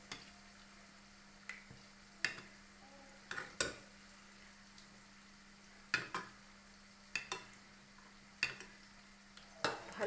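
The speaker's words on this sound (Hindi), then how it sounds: "अब इसमें हम डालते हैं चंद्रकला को एक एक करके" Chandrakala sweets dropped one at a time into thick sugar syrup in a pan, making a series of sharp, close clinks and wet plops at irregular intervals over a steady low hum, with no talking.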